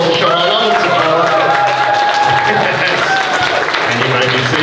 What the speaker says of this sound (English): Let's give some massive round of applause to show our love and support.